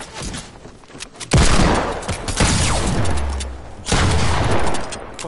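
Bursts of rapid gunfire from a Fortnite match, loud and sustained with sharp clustered shots and booming impacts, pausing briefly between volleys.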